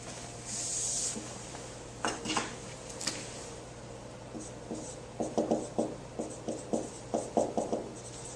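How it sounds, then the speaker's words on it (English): An eraser rubs out a drawn curve on a board in a classroom lesson, giving quiet scratchy strokes that grow into a run of short rhythmic rubbing bursts over a steady low hum, with no one speaking. "So let me go ahead and erase this curve."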